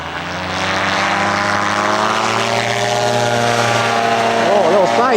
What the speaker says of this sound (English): he's coming back again for another flyby